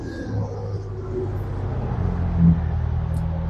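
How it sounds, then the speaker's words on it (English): Heavy trucks pass by on a nearby road, a steady low rumble of engines and tyres that swells slightly toward the middle, with no one talking. "There are a lot of trucks going by."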